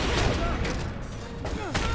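Gunfire in the fighting game Injustice: Gods Among Us, a dense burst of rapid shots and impacts filling the moment with loud noisy cracks, with a voice briefly under it.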